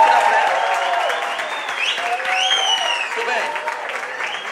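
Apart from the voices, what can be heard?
audience applause in church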